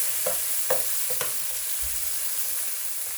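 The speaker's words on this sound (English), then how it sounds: "Let's start sauteing our onions." Chopped onions sizzle in about three tablespoons of hot olive oil, a steady close fry with a few soft stirring knocks of a utensil in the pan.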